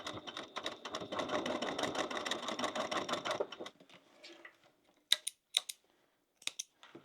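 Close, steady rapid whir of a sewing machine stitching a crossbody bag seam for about three seconds, then it stops, leaving a few sharp clicks and taps.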